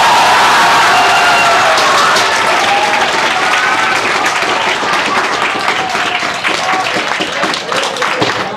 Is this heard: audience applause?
yes